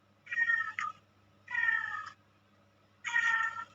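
A cat meows three times in a row, close and clear, with short pauses between calls.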